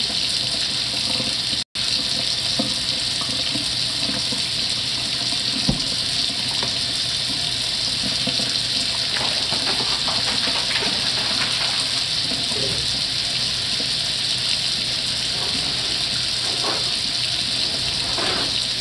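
A kitchen tap runs at full flow in a home kitchen during cooking, a loud, steady gushing hiss of water that carries on unbroken, with one brief cut near the start.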